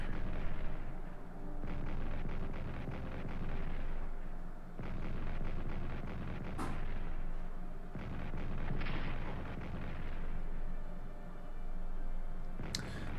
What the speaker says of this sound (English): Also artillery down in the Basra area, firing on the cavalry